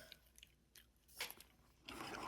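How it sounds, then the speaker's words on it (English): Nicorette nicotine gum is chewed close to the mouth, giving a few soft, wet crunches and squishes in short bursts separated by quiet gaps, with no voice present. "right now, I'm chewing some Nicorette"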